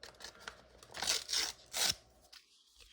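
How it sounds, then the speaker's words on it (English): Tape being peeled off a Dollar Tree mailing envelope, heard as a few short, close ripping bursts separated by brief pauses, then quiet. "Peel this tape off."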